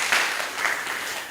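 An audience at a ward candidates' debate applauds, a dense, even wash of clapping that holds steady for just over a second without any voices.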